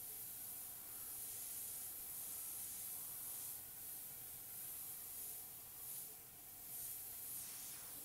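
An airbrush sprays paint close up over stencil gaps on a skull design, giving a steady, even hiss that runs continuously for the whole stretch with slight swells.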